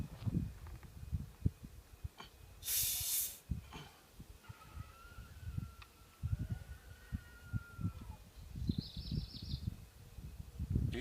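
A Coca-Cola bottle with Mentos inside has its cap loosened, releasing one brief, loud burst of hissing gas, followed by quiet handling rumbles and thumps.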